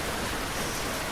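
Steady, even rainfall on a road where a car stands stopped mid-street, a dense unbroken hiss holding at the same level from start to end with no voices.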